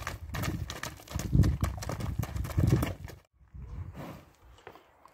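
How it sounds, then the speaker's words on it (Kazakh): Racehorses for kok-boru move in a rhythmic clip-clop of hooves, dense and fairly close, with wind or handling noise; the sound drops off briefly near the end before softer hoofbeats resume. "кийинки улакка чабылып жүргөн аттарды дагы көрүңүздөр"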